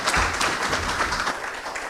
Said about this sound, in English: May I have a round of applause for Dr.